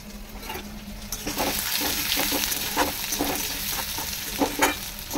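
Onions and green chillies frying in hot oil for semolina upma: a steady, close sizzle with occasional stirring scrapes and clicks throughout.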